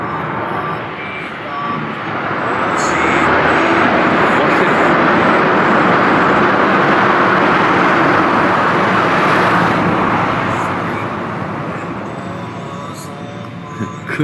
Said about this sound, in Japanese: 車の音の方がうるせえという